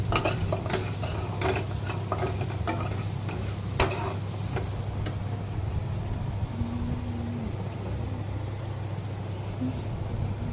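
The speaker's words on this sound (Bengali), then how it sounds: "চালটা দিয়ে আবার এটা নাড়ে নিতে হবে, নাহলে আবার চালগুলো দলা পেকে যেতে পারে।" Rice gets stirred into a pot of heating milk for payesh, a continuous scraping, swishing texture with occasional spoon taps against the pot over a steady low kitchen hum.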